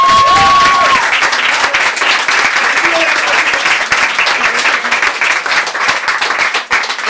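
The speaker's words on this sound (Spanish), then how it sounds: "Ay, un aplauso enorme para él." Loud, dense applause from the audience at a poetry slam in Cantabria, many hands clapping steadily and close for about seven seconds, with a voice briefly heard at the start.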